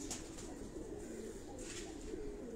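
Pigeons of several breeds coo softly in a rooftop breeding setup, a steady low murmur of overlapping calls with faint chirps, no voices present.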